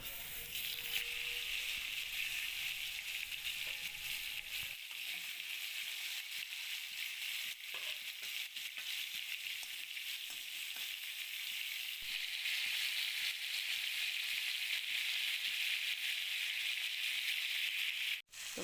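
River pigeon fish fry in hot mustard oil in a kadai, a steady bright sizzle running without a break throughout, close and fairly loud, with faint clicks and scrapes now and then.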